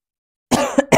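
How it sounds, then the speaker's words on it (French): A single close cough after a moment of silence, sharp and throaty, followed quickly by a second shorter cough. "c'est marrant parce que je tousse"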